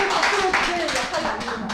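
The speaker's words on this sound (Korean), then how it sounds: "박수" An indoor audience at a couples' lecture claps together, dense continuous applause for a couple of seconds. Voices talk over it.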